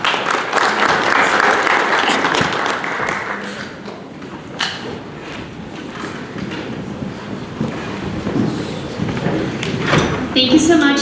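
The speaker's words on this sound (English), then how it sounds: "Another round of applause" An audience at a tech talk with two guests applauds in a broad, fairly loud burst at the start. The clapping then gives way to a speaker talking over scattered claps and room noise.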